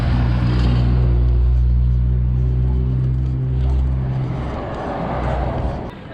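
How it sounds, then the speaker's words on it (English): A car struggling to start in a small Eastern European village, a loud, low rumbling engine drone that holds steady then falters and fades toward the end, with no talking. "Cars always have a hard time starting here."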